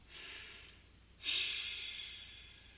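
Slow, deep breathing during a morning yoga session, one long airy inhale followed by a fuller exhale, soft and close with no talking.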